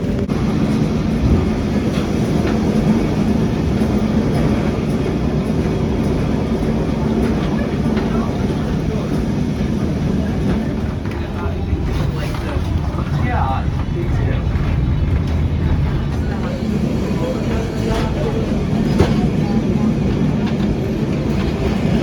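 A Lisbon yellow tram runs along its rails in a steady rumbling drone from on board, with faint squeals and clatter over the wheels and no break in the noise for over twenty seconds.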